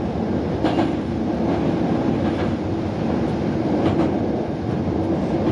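A Hankyu Senri Line train clatters over rail joints, heard from the cab as a steady rumble with faint, regularly spaced clicks from the wheels.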